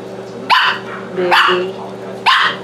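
A Chihuahua gives three sharp, loud barks spaced roughly a second apart, close by, while a person speaks softly.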